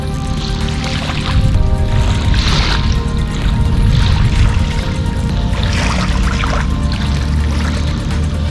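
A person swims in clear, warm, seaweedy sea water in the Shark Bay area of Western Australia, with continuous close splashing and sloshing water that rises and falls in steady strokes.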